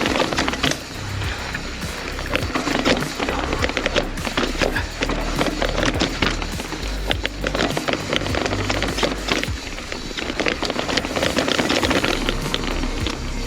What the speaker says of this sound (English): And now for the longest rock garden I have ever ridden.